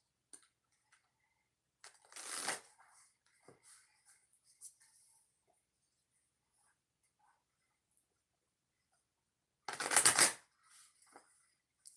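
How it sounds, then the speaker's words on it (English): Oracle cards being shuffled by hand, two short riffling bursts several seconds apart with faint taps and handling noises between them in an otherwise quiet room. "So 2 shuffles before we go into oracle reading number 5 for the viewers"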